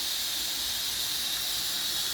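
Chopped onion sizzles in a pan, a steady close hiss of frying with a bright, even texture and no talk over it.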